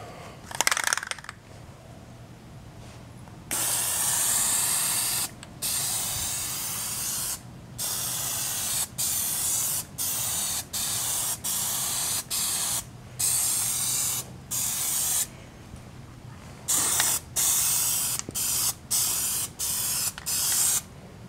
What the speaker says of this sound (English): I'm going to Plasti-Dip spray this and seal it before